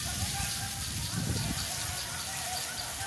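Food sizzling and frying in mustard oil in a village kitchen: a steady, dense crackling hiss that fills the whole stretch, with low rumbling and murmured talk beneath it.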